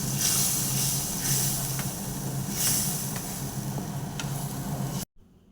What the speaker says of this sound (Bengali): আমি তেলের মধ্যে মশলাটা এবারে ভালো করে কষিয়ে নিচ্ছি যাতে কাঁচা গন্ধটা বেরিয়ে যায়।